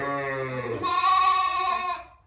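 A lamb lets out one loud, close, wavering bleat that rises in pitch partway through and then fades, with no other sounds around it.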